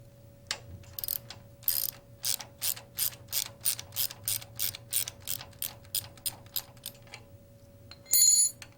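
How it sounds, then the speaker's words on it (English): A ratchet wrench clicks in a quick, even series of about fifteen short strokes as a bolt is taken out of a Rotorway helicopter's scissors mount bushing, quiet and close, ending with a brief metallic rattle. "Remove the scissors mount bushing by removing the bolt."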